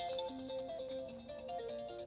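A phone ringing with a quiet electronic ringtone, a short repeating melodic pattern of bright beeping tones lasting about two seconds.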